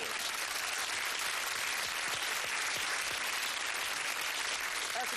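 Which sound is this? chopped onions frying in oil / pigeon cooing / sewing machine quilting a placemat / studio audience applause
studio audience applause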